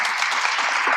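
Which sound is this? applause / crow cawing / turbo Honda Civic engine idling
applause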